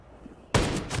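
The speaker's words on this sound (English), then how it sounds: "I hear gunfire." Quiet for half a second, then a sudden loud burst of rapid gunfire in the video game Ghost Recon Breakpoint that keeps going as a dense, continuous volley to the end.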